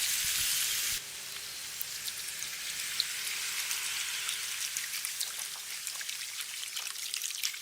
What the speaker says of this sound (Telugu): ఒక్కసారి బాగా కలుపుకొని కరెక్ట్గా 1 లీటర్ నీళ్లు పోసుకుందాం.